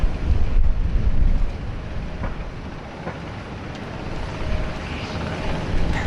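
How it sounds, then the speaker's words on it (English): Southerly wind gusting at Sydney Airport, a loud, continuous low rumble and buffeting across the microphone that swells and eases over several seconds with no speech. "You can probably tell that that wind is starting to pick up a little bit out of the south"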